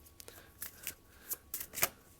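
A deck of tarot cards is shuffled, giving a handful of short, dry riffling bursts in quick irregular succession, close and moderately soft, with no voices.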